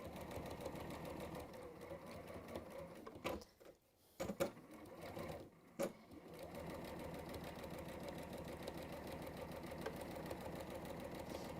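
A sewing machine stitches a quilt with a steady, fast mechanical whir, pausing briefly midway for a couple of stops and restarts before running on continuously.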